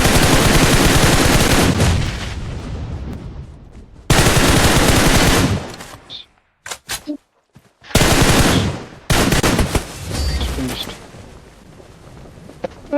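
PUBG Mobile game gunfire: loud bursts of rapid automatic fire, close and sustained, broken by short pauses and a few scattered single shots.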